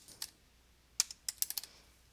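A password is typed on a computer keyboard as a short burst of crisp, close key clicks: one early tap, a pause, then a quick run of several keystrokes, fairly faint against a quiet room.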